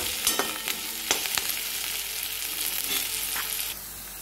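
Onion frying in oil for cabbage manchurian, a steady close sizzle with a few louder crackles and stirring scrapes, no talk.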